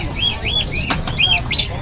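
Several small birds chirp and tweet in quick, high, repeated calls at a crowded pet market in Bocaue, close and lively, with low background murmur beneath.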